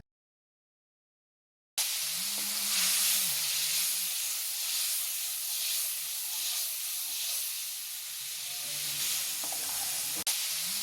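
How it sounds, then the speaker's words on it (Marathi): Turmeric, red chilli powder and pureed tomato hit hot oil for a tempering in a stuffed eggplant curry. A brief silence gives way to a steady, moderately loud hiss and sizzle that lasts to the end. "फोडणीला टाकायचं तेलामध्ये हळद थोडीशी टाकायची लाल तिखट थोडंसं टाकायचं"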